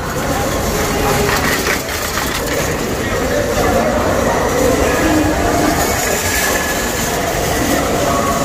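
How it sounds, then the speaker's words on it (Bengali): Loud rumbling of a train inside Kamalapur railway station, Dhaka, with a constant mechanical roar and indistinct crowd voices underneath. "আমি এখন কমলাপুর রেল স্টেশনের ভিতরে রয়েছি"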